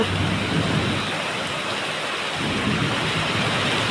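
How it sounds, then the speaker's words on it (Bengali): Heavy rain pours steadily with rumbling thunder, loud and close throughout as a dense, unbroken wash of noise with a deep low roll in the first half. "কি অবস্থা কি জোর বৃষ্টি এসেছে দেখো"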